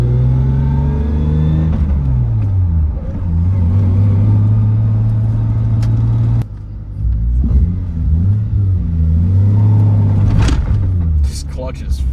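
A tuned MK4 Toyota Supra with a harsh clutch pulls away in traffic, its engine rumbling and revving up through rising and falling pitches with a brief dip in between, loud and close inside the car.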